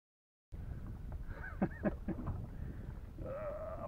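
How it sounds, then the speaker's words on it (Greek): A donkey's bray heard outdoors, a few rising and falling honking calls in the middle of the clip, moderately distant, then a longer drawn-out tone near the end. "Ένας γάιδαρος."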